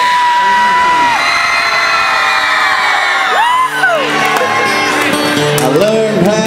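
Live concert audience at a Breathitt County country music show yelling, whooping and cheering loudly, a dense crowd roar with rising shouts throughout.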